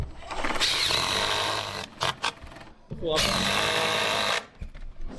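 A power drill driving screws to fix climbing holds onto a bouloir wall, two loud whirring runs with brief stops between, while people chat nearby in French.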